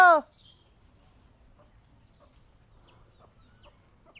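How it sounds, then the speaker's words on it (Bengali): Chickens tied up at a village house: one loud squawk right at the start, then faint scattered clucks and quiet bird noises at a distance in an otherwise hushed setting. "মুরগি বাইন্দা থুইছে"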